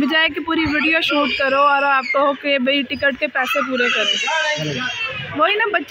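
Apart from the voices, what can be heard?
small child crying on a fairground ride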